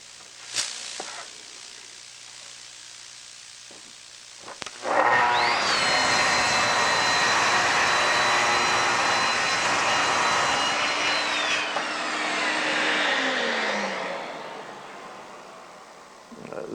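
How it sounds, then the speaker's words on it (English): A track saw fitted with a Freud blade rips through oak plywood, rising into a loud, sustained high-pitched whine for several seconds before winding down, after brief handling noises. "let's see how it works cutting some plywood"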